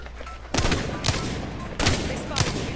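Several sharp gunshots in a shooter video game, loud and close, fired in a couple of quick bursts about a second apart over a background of game noise.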